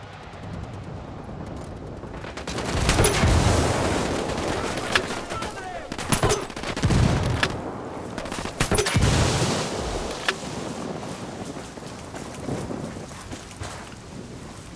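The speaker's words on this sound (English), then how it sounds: "Shooting." Gunfire from the shooter game Ghost Recon Wildlands comes in several loud, close bursts over a steady windy rumble, with scattered sharper cracks in between and voices briefly talking.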